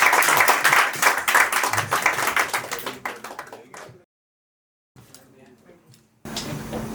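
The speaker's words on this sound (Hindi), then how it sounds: "अमता सर के लिए जोरदार तालियां।" A live audience at a poetry event applauds a poet with dense, energetic clapping that fades out after a few seconds. A short silence follows, then quieter rustling and stage noise resume.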